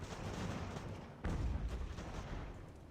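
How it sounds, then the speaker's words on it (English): Artillery shells landing among troops in Ultimate General: American Revolution, a muffled rumbling barrage with a heavier low boom about midway, rolling on at a distance with no talk. "Man, those artillery shells coming right into my flank are problematic."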